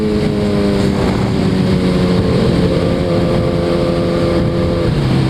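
A Suzuki Hayabusa motorcycle pulls hard in first gear, its engine note loud and steady throughout with rising harmonics and some wind rush, and no talking.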